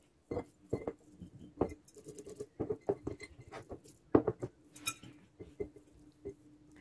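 Garlic cloves dropped into a glass jar while preserving, a run of small clinks and taps against glass in an irregular patter, close and fairly quiet, with no talking.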